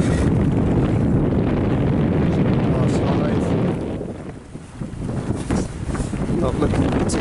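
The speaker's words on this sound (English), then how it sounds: "it's gusty wind." Gusty wind roars and buffets the microphone aboard a Wauquiez Gladiateur sailboat under autopilot, a loud, continuous broadband rush that eases briefly midway before building again.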